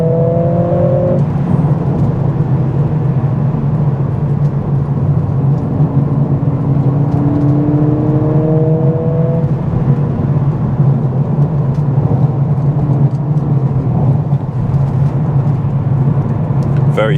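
A 2021 Mercedes CLA45s AMG four-cylinder cruises on country roads, its engine hum steady and droning inside the cabin with rising and falling tonal whine as it accelerates, continuous throughout.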